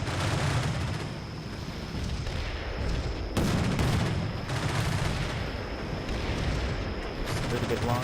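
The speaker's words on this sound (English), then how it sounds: "So extremely fast firing guns in those martyrs." Vehicle guns in Combat Mission: Shock Force 2 firing extremely fast, a dense, loud, continuous roar of rapid shots and booming impacts with no gaps.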